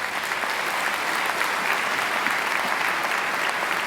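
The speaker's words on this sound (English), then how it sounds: "I think Matthew deserves another great round of applause." Graduation ceremony audience applauding in a large hall, a dense, even roar of clapping that holds steady throughout.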